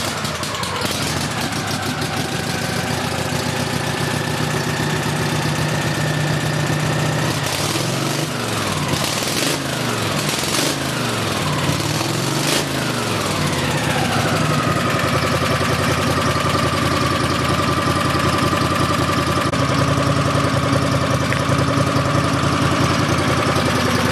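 A Craftsman GT5000 garden tractor engine runs steadily and fairly loud throughout, with a short stretch of uneven, wavering revs around the middle before it settles back into a smooth idle.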